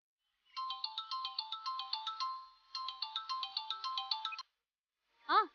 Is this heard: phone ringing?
yes